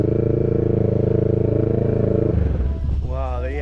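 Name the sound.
motorcycle riding off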